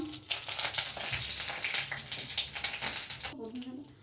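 A bay leaf sizzles in hot oil in a wok, a steady loud crackling fry filling the clip while a voice speaks over it.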